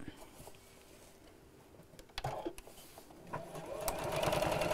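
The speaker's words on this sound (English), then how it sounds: "I'm just going to sew across that end by about five inches or so" A domestic sewing machine stitches across the end of a fabric piece, a faint, fast mechanical whir under room noise with a few clicks, growing louder toward the end.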